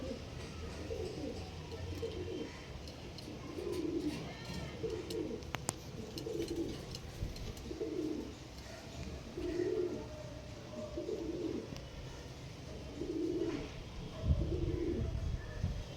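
Pigeons in a loft coo over and over in a steady, rhythmic pattern at moderate volume, with faint background noise and no talking throughout.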